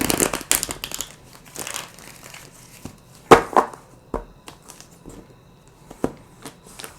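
A deck of tarot cards being shuffled for a Virgo weekly love reading, heard as crisp, papery riffling and crinkling bursts that come in irregular clusters up close, with no talking.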